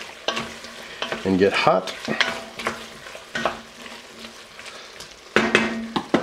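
Corn chowder vegetables and potatoes stirred in a hot pot, a spoon scraping and clinking against the metal over a light sizzle, up close, with someone speaking briefly.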